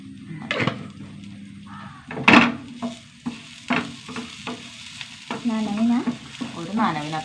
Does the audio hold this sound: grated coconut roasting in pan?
yes